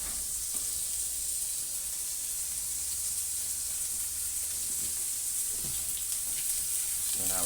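Seared scallops hiss and sizzle steadily in a hot pan as they are flipped one by one. A few soft clicks and taps from the turning break through the constant frying noise.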